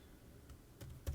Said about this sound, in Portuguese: a seta do teclado, posiciono no meu primeiro valor, clico Shift e Ctrl